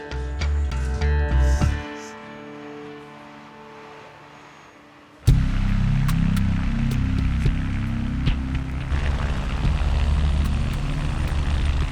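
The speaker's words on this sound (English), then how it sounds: "another chopper is landing with a new patient for the emergency team" A helicopter lands near an emergency department at sundown, its rotor and engine drone starting faint, then surging loud and close into a steady, heavy pulsing roar.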